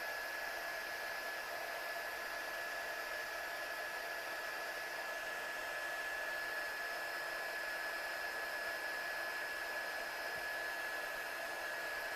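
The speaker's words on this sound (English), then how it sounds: "I've just got my gun really hot, and I'm just going to heat set this clear" A heat gun heat-setting clear embossing powder on a handmade picture collage runs as a steady, even blowing hiss with a faint high whine, close and constant for the whole stretch with no speech.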